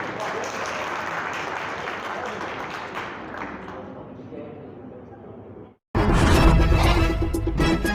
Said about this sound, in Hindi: आप सब मिलकर के जोरदार तालियां सीमा जी के लिए